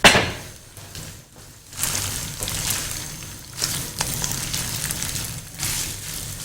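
Two cups of boiled rice frying in three tablespoons of oil over a high flame, a steady sizzle with intermittent scraping and stirring strokes of a spoon against the pan.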